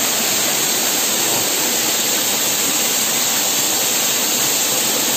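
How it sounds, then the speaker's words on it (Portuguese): A loud, steady roar of rushing, falling water from the Pichar waterfall in an ecological park fills the air, a dense unbroken hiss with no other sounds. "Aqui é a cachoeira de Pichar, parque ecológico"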